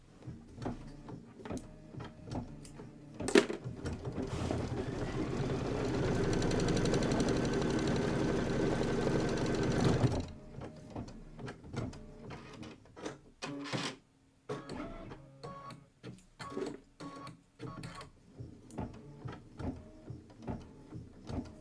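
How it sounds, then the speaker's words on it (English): An embroidery machine stitches Kimberbell Hello Sunshine applique blocks, its rapid mechanical chatter running steadily for several seconds, then breaking into intermittent clicks and taps. "This is 16 minutes of stitching"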